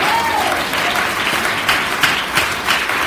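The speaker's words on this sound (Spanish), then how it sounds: "Aplausos al Señor." Congregation in a Pentecostal church applauds steadily, a dense wash of clapping that stays loud and even throughout, with a faint voice briefly audible near the start.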